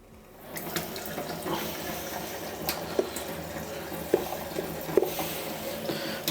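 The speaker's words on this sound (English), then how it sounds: "it's always advisable afterwards to swill it off with like warm soapy water" A tap runs steadily as a plastic, metal or resin miniature is rinsed under warm water, with a continuous splashing stream and a few small knocks against the sink.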